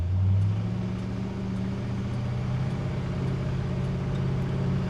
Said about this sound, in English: Now this car, you can tell it makes a good note, but not waking the neighbors